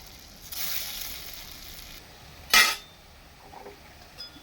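Bottle gourd dhoka pieces frying in a pan, with a soft sizzle for about a second and a half, then a sharp metallic clink of a utensil, followed by quieter hissing and small clatters.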